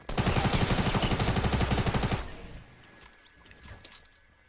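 Rapid automatic gunfire from a Fortnite weapon, a dense loud burst of shots lasting about two seconds and then cutting off into quieter game ambience.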